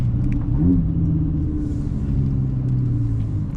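A deep, throaty exhaust rumble from a sports car with an aftermarket Fabspeed catback exhaust, idling and cruising steadily, close and loud, with a brief rise in pitch early on.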